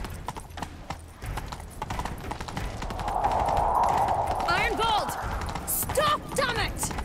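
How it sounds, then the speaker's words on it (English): A horse gallops in The Witcher 3 during a chase, with rapid rhythmic hoofbeats pounding close by, a brief whinny, and game music and ambience swelling underneath. "Grab a horse, we'll chase him down."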